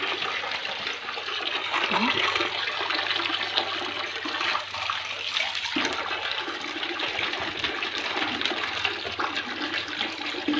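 Water runs steadily in a bathroom as blankets are rinsed by hand, a continuous rushing splash at moderate level with occasional sloshing, and someone speaks now and then over it.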